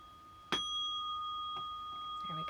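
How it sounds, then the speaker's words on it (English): A small meditation bell struck once, a bright clear ding with sustained ringing overtones that decay slowly, followed by faint soft rustles and breath in a quiet room. "I'm going to ding our little bell"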